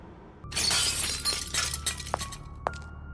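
A glass box is dropped and shatters: a loud crash followed by scattered tinkling shards, with two sharp clinks near the end.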